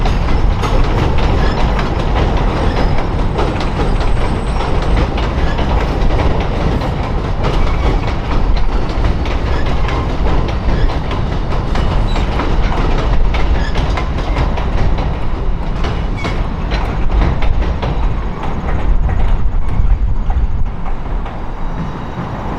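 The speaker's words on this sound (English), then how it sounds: "As another REM departs, an inbound VIA corridor train hauled by an F40PH with LRC equipment comes inbound." A VIA Rail corridor train hauled by an F40PH locomotive with LRC coaches rolls inbound at Montreal Central Station, a loud, steady rumble and clatter of wheels and engine filling the whole stretch without letting up.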